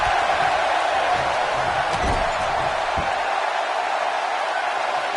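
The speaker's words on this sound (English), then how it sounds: "by the sound of this crowd, I think they're getting what they wanted" A wrestling arena crowd at a Raw SummerSlam event keeps up a loud, dense roar of cheering and noise, with a couple of sharp thuds from the ring cutting through.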